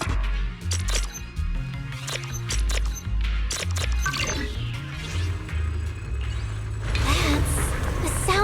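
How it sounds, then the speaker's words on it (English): Machinery running in the video game Zenless Zone Zero: dense clanking, ratcheting and whirring mechanical sounds over a low steady hum, with rhythmic metallic clicks and a brighter swell near the end. "That's the sound of machinery."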